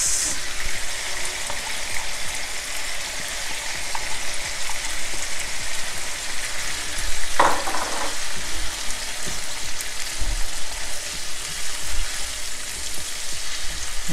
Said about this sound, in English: so now I'm adding the onions.